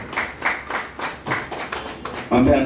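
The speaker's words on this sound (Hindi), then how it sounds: "तालियां आप लोग बजाते रहे।" At a Hindi literary association's annual state executive gathering in Uttar Pradesh, an audience claps in short rhythmic bursts, and a voice comes up at the very end.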